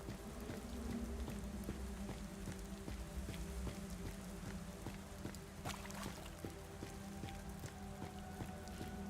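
Steady rain patters throughout a video game scene, dense drops falling evenly with no voices, a continuous wet hiss under faint low background hum.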